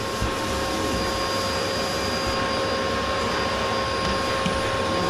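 A vacuum cleaner runs steadily and loudly with a constant broadband roar and a whining tone, hoovering broken glass from a Norreskoven MK2 wood stove being stripped and cleaned, with no voices.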